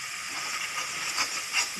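Semolina (rava) sizzles in hot ghee while roasting, after cashews and raisins were fried, giving a steady, close hiss with slight crackling and no voices.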